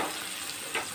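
Onions fry in oil for brinjal kuzhambu, a brief soft sizzle with a faint stirring scrape, quiet and close.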